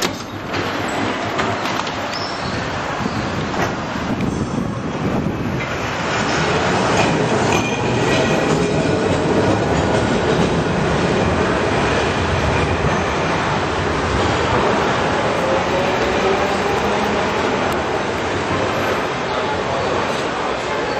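A train rolls past steadily for about twenty seconds, loud and close, with broadband rumble, rattling wheels and faint squeal. It grows louder partway through.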